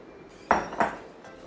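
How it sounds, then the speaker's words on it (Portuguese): A utensil clinks twice against a pan while milk, egg and sugar cream is stirred over low heat, two sharp close knocks about a third of a second apart with quiet between. "Devemos cozinhar mexendo sempre em fogo baixo por 10 minutos"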